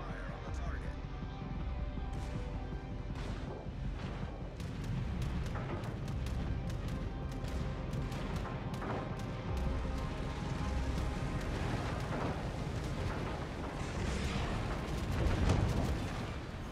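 Ship artillery pounding an enemy battleship in a video game, repeated heavy booms and blasts rolling over a constant low rumble, with voices talking over the firing throughout.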